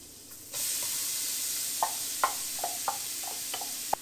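Onion and garlic sizzle in melted butter in a pan, a steady close frying hiss that starts abruptly, with occasional light knocks and stirring taps from a utensil.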